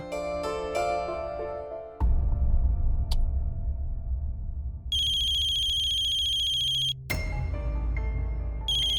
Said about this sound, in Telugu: అందులోనే మా అక్క దగ్గర నుంచి ఫోన్ వచ్చింది